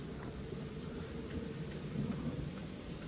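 Steady rain pours with low rolling thunder rumbling beneath it in the Black Mirror adventure game, a continuous, fairly quiet storm wash with no talking.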